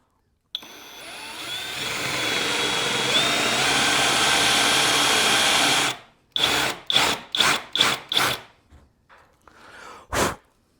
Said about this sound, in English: we're not going to drill all the way through